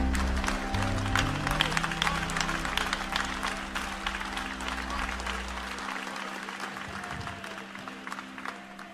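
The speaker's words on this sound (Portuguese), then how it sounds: "e louvai a Jesus com as palmas bem forte" Congregation members in a Portuguese-language church service clap their hands together, a continuous crackling applause over a low hum that fades slightly as it goes on.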